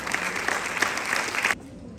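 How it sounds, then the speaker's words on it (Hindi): An audience at a Delhi Commission for Women International Women's Day awards ceremony claps loudly and steadily for about a second and a half, then the applause cuts off abruptly into quiet. "एक बार जोरदार तालियां बजा दीजिए।"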